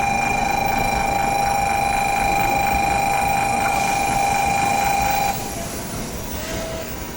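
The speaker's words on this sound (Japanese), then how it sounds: "乗り場にのぞみ270号名古屋行き到着です。" Nozomi 270 Shinkansen bound for Nagoya pulling into Okayama station, a steady loud train rumble with a sustained high whine from the motors that cuts off near the end as the train slows.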